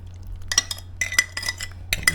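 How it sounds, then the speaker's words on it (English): A utensil stirring a dissolved sugar mixture into apples for pies, several quick clinks and scrapes against a bowl in short bursts with brief pauses between. "Stir that into the apple."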